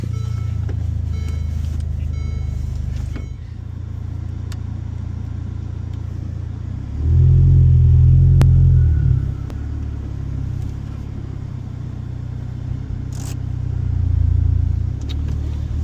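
A Mercedes GLA45 AMG engine drones steadily while driving, then swells into a loud rev around the middle before settling back, with another smaller surge near the end.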